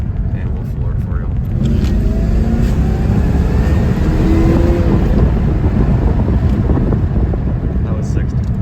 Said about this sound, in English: We'll put it in the second gear and we'll floor it for you.